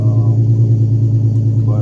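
A modified Infiniti G37 fitted with high-flow cats, a Y-pipe and an axle-back exhaust idles with a deep, steady, loud rumble, and a slight rev swell comes near the end.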